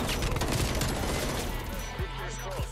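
Dense, continuous automatic rifle fire from an FFAR 1 in the Call of Duty: Cold War video game, a loud rattling burst that fills the clip, with a few sharper distinct shots toward the end.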